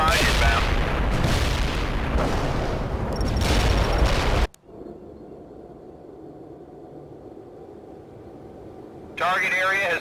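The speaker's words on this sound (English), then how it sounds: "Artillery barrage inbound." World in Conflict artillery barrage: dense rumbling booms and blasts pound for several seconds, then cut to a quieter low rumble, with radio-style voices speaking over the action.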